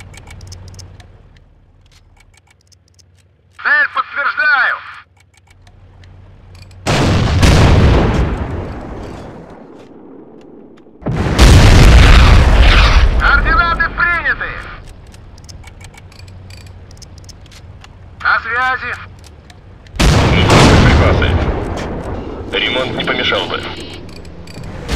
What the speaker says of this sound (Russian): Самоходная артиллерия! Накрыть их!